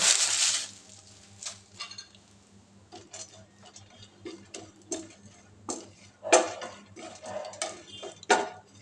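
A handful of rice dry-roasting in an empty kadai, with scattered dry ticks, scrapes and clinks of stirring against the metal pan, irregular and close, with no talk.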